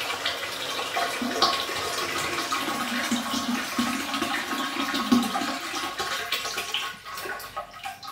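A toilet cistern refilling with its float valve set too high, water rushing steadily into the tank with a low hiss and gurgle, close and continuous, easing off near the end.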